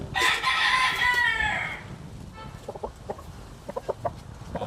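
A rooster crows loudly up close, followed by scattered soft clucks from chickens in a backyard, against a noisy outdoor background.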